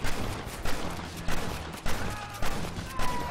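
Gunfire in a shooter video game: a series of heavy shots, roughly five or six booms spaced about half a second apart, loud and close over a dense background of game noise.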